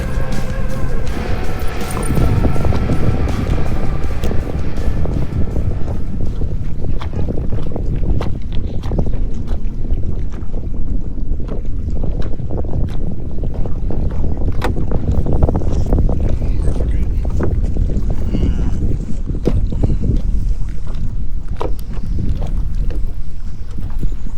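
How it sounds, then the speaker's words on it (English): Steady wind buffets a bass fishing boat out on open water in spring, a continuous loud rush with low rumbling gusts hitting the microphone throughout, with no voices. "The wind's starting to kick up, as you can see here behind me"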